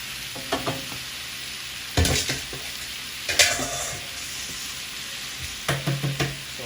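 Chicken wings browning in a pan over medium heat on a stovetop, a soft steady sizzle broken by several bursts of scraping and stirring against the pan, close up, no voices.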